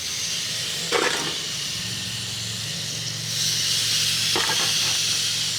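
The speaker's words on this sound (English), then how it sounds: "There's the sizzle that you're looking for." Chicken skin sizzles on a charcoal grill in a constant bright hiss, with a couple of short crackling bursts and the sizzle swelling louder partway through.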